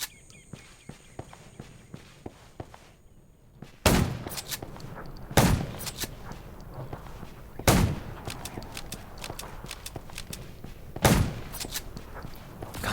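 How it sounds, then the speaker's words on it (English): Gunfire in the video game Undawn comes as four loud, sharp shots spaced a couple of seconds apart. Steady footsteps and light game ambience run underneath. "Gunshots will attract."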